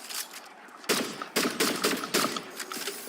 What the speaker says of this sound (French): En fait, ce pistolet fait penser un petit peu à Star Wars, mais avec des balles.